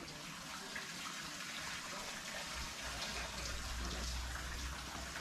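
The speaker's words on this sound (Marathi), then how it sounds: "इथे सतत पाण्याची धार वाहते गोमुखातून" Water pours in a steady, continuous stream from a gomukh spout at a temple surrounded by dense forest in Dapoli, Maharashtra, a faint, even rushing that continues without a break.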